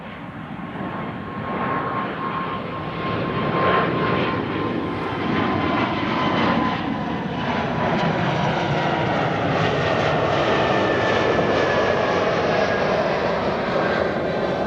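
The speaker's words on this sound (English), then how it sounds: "E2 Embraer 195 in the meantime," An Embraer E195-E2 jet takes off at Amsterdam Schiphol on a sunny day, its engines producing a broad, steady roar heard from a distance that swells gradually and holds loud to the end, with no talking.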